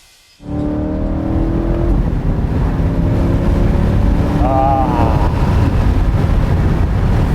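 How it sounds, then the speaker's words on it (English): A Chevrolet Corvette's V8 engine roars loudly, revving up from idle into a sustained throaty drone with wind rushing past, close and continuous. "V8 noises."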